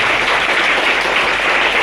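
Audience applause welcoming an elderly guest at a school building ceremony, a dense, steady wash of clapping that holds evenly throughout without a break.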